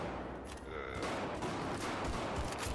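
Rapid gunfire from the video game Battlefield 4, sustained bursts filling the clip with sharp repeated reports, loud and close.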